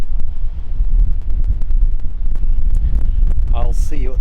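Strong headwind buffets a motorcycle rider on a long, dead-straight road across Western Australia, a loud continuous low roar of wind noise filling the whole stretch without a break.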